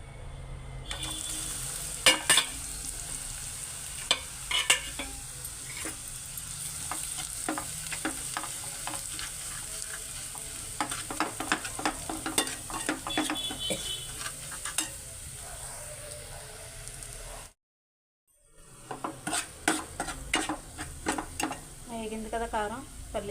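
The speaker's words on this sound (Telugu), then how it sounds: "మనం ముందుగా దంచి పెట్టుకున్న పల్లీలు, కారం, జీలకర్ర, ఎల్లుల్లిపాయలు, కరివేపాకు ఈ మిశ్రమాన్ని ఆయిల్లో వేసుకోవాలి" A crushed mix of peanuts, chili, cumin, garlic and curry leaves fries in oil in a pan, sizzling steadily while a spoon stirs and scrapes in repeated close strokes; a brief silent break interrupts it, then the sizzling and stirring resume.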